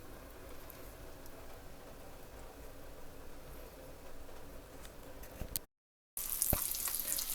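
Steady sizzling of zucchini frying in a pan, a soft continuous crackle, briefly cutting out before returning louder and brighter.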